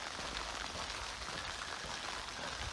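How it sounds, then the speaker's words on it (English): Rain falls steadily on a walking day along the Shikoku pilgrimage route in Japan, a soft, even hiss of drops on surfaces, fairly quiet and continuous with no talking. "It's raining. And it's going to rain all day."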